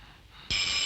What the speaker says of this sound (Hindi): देवकी, जरा फोन तो देखना।